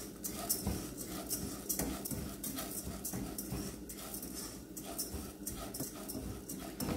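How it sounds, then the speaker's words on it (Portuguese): A spoon stirs parboiled rice in a cooking pot in a home kitchen, giving quiet, rhythmic scraping and clinking strokes that repeat steadily throughout with no talk. "Vou dar aqui uma boa misturada nesse arroz."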